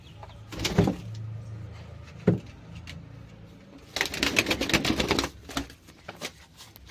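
Pigeons in their coop flap and scuffle with sharp wingbeat bursts and soft rustling, a couple of isolated flutters followed by a busier flurry of flapping close by.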